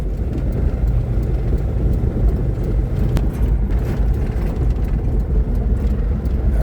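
A vehicle loaded with a wardrobe rolls slowly along a rough, badly broken gravel road, giving a steady, close rumble of engine and tyres crunching over stones with no break in the noise.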